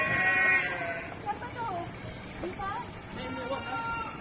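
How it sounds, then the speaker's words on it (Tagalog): A Toggenburg goat bleats loudly and close by with a wavering cry, then keeps calling amid overlapping talk from several people near a van. "May kambing na nga tayo."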